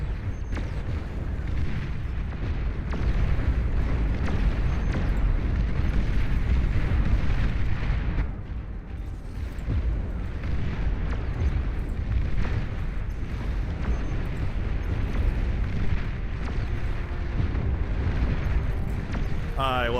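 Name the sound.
EMP missile explosions in video game Beyond All Reason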